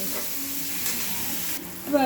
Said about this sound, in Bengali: পেঁয়াজটা প্রায় ভাজা ভাজা হয়ে এসছে